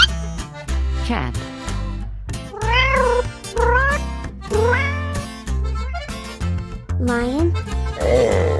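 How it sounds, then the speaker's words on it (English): A cartoon cat meows over and over in drawn-out, rising and falling calls, spaced in a steady rhythm over a bouncy music bed, close and prominent. "Cat."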